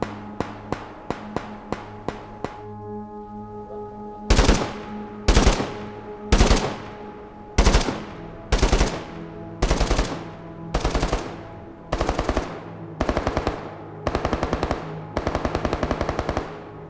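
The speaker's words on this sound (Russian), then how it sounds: "мы переработали эффекты дальности выстрелов" Gunfire effects from the video game Ray of Hope: a rapid burst of light distant shots, then a series of loud, close, evenly spaced automatic bursts with short gaps between them, no voices.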